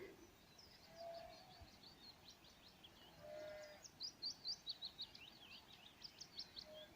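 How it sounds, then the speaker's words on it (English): Rapid, repeated high chirps and trills of birdsong on a mountain path in the Rhondda, Wales, fairly clear over a soft low background rumble, with a few louder bursts toward the end. "The sound of the bird song"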